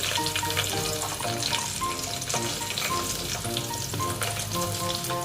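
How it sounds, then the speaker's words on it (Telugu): Onions and green chillies fry in hot oil for a fish curry, making a loud, dense, continuous sizzle heard close up, with a steady crackle and no pauses. "ఆనియన్ ఇవైతే మంచిగా ఫ్రై చేసుకున్నాము"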